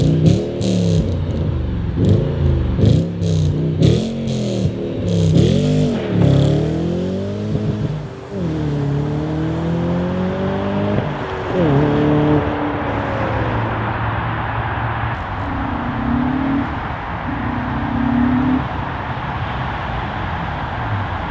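Audi RS4 engine revving hard through rising and falling pitch sweeps as the car brakes sharply and downshifts, loud and close throughout with steady road roar and no talking.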